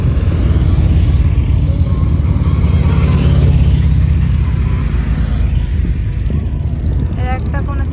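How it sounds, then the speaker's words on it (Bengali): A group of big motorcycles rides past outdoors on a sunny day, a loud continuous engine rumble that holds steady and then eases slightly toward the end. "এই দেখো কতগুলো বাইক নিয়ে এসছে, রোদ উঠলে এরা বাইক নিয়ে বেরিয়ে পড়ে"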